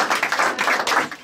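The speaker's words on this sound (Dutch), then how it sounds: "dames en heren, een heel groot applaus voor Alja en haar bundel." An audience at a poetry book presentation in an Amsterdam gallery claps, a brief burst of fairly close, dense applause with rapid uneven hand claps.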